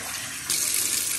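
Tap water starts gushing into a sink halfway through while rice is being prepared for Iraqi matfonah, a sudden steady hissing splash that is close and fairly loud.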